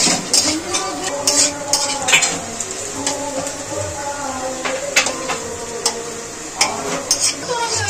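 Onions frying in a pan give a soft sizzle while a utensil taps and scrapes the pan in irregular clicks, close and moderately loud, with no talking.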